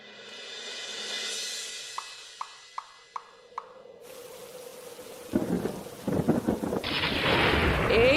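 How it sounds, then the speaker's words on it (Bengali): A cartoon thunderstorm opens with a long rolling rumble of thunder and a few sharp plinks of drops, then rain bursts in, hissing and pattering loudly on surfaces and building toward the end. "এই তো ঝড় বৃষ্টি শুরু হয়ে গেল"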